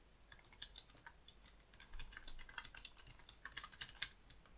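Rapid typing on a computer keyboard, a close and quiet run of light clicks while a name and email are entered into a web form, with no talk.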